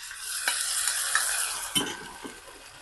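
A sauce is stirred into a pan of bitter gourd and fish slices over low heat, a soft sizzle under a few distinct scraping strokes of a utensil against the pan.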